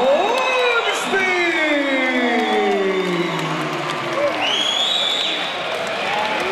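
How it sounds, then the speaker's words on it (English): A fight crowd applauds and cheers with whoops and shouts right after the judges' majority decision is announced, a dense, loud, continuous roar with a voice over it. "And a round of applause"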